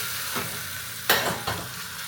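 Vegetables, potato and bottle gourd, sizzle briefly as they hit hot tempering oil in a pan, a steady frying hiss with a few louder bursts as they are stirred in, no talking.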